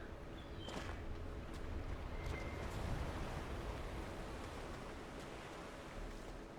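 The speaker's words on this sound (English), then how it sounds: "Ocean waves. They did it so well." Ocean surf on the Storm Coast in the video game Dragon Age Inquisition rolls in as a steady, dense wash of noise with faint wind, even and continuous throughout, with no voices over it.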